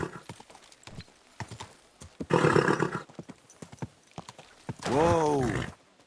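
A horse in Kingdom Come: Deliverance II clops its hooves steadily and neighs twice, a short snort-like whinny midway and a louder, drawn-out whinny near the end.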